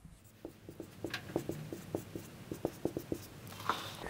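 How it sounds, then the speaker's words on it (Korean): A name being written by hand, pen strokes scratching on paper in a quiet room as a steady series of short, soft taps and scrapes, close and faint, with no talking. "자, 제 이름 한번 써보겠습니다."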